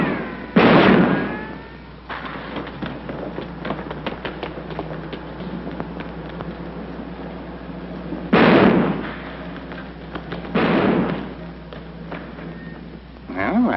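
Gunshots ring out as sharp loud bursts, one early, another near the middle and a third soon after, with a final shot at the end, between stretches of quiet background.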